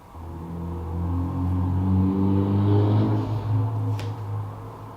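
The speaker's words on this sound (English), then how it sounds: "It's a bus. It's not even just a car." A bus or car engine revs up, a deep rumbling drone that climbs and holds at a strong, close level before easing slightly, with no talk.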